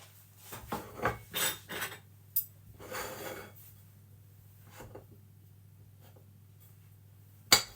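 Knife slicing through a mini egg cheesecake on a chocolate digestive base, several close scraping strokes and clinks against a plate, then quiet and a final sharp tap.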